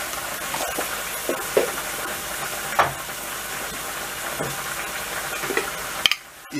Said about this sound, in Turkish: kavuracağız arkadaşlar